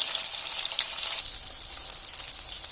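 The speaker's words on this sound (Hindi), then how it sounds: "इसको ऐसे करके हम गोल्डन ब्राउन होने तक इसको फ्राई करेंगे।" Paneer pieces coated in cornflour and maida batter frying on high flame for chilli paneer, a bright, continuous crackling sizzle heard up close and alone.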